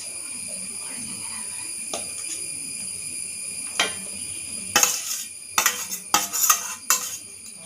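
Grated jaggery and coconut mixed in a bowl, heard first as faint scraping and then as a cluster of louder clinks and knocks from a utensil against the bowl, close up.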